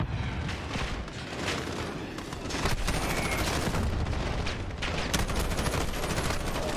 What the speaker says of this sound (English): Launching mortars!